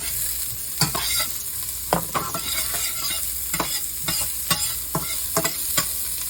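Onion sizzling in olive oil in a pan, a continuous bright hiss broken by repeated sharp scrapes and taps of a spoon against the pan, close up with no voices.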